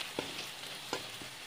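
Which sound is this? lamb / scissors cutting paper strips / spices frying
spices frying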